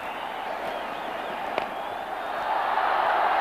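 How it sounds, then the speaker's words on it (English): A large cricket crowd at Karachi's National Stadium roars in a steady, distant wash of cheering that swells slightly toward the end, with no clear speech over it. "The Karachi crowd go wild."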